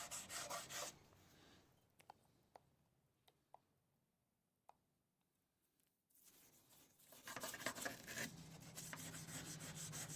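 Bursts of close scrubbing with a brush and bleach cleaner on the case of a Pioneer SX 450 receiver, with a quiet stretch in the middle broken by a few small ticks before the steady rubbing returns.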